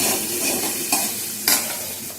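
Onions frying in a pan for an ivy gourd stir-fry, a steady close sizzle broken by two sharp scraping stirs of the spatula, with no voices.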